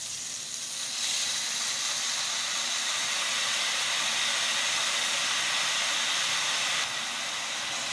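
Tomato paste hits frying okra in a hot pan with a loud, steady sizzle, a broad hiss that jumps up after the first second and holds evenly; no one speaks.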